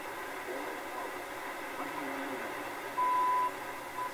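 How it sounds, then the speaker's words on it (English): Shortwave radio time signal tuned on a Panasonic RF-4900 receiver, heard as a steady tone beep around the three-second mark and again near the end, sitting in a constant hiss of static. "It's another time signal."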